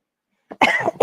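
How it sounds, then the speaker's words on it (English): One loud, close cough right into the microphone, a short catch followed by a rough burst after a moment of silence, during a live show at a saloon. "Coughing in your microphone. Sorry."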